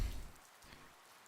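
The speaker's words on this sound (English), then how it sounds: "Oh, it's starting to rain." Rain falling in the video game GodSIM, a faint, steady patter and hiss with a soft low rumble at the start, brief and quiet with no talking.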